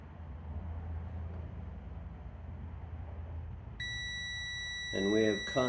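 A continuity beep from a multimeter testing a kill switch circuit on a Heald Supertrike SST, a steady tone that starts partway through over broadband noise, with a brief voice near the end.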